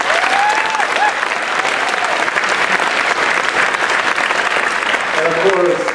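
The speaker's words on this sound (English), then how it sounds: "Give yourselves a round of applause." Audience applause at a chapter development session, dense sustained clapping from a large crowd, loud and even throughout, with a few voices and whoops mixed in.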